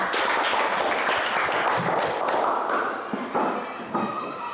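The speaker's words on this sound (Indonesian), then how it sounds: "kita beri tepuk tangan dulu untuk kelompok 3" A group claps together in a loud, continuous burst of applause that tapers off slightly toward the end.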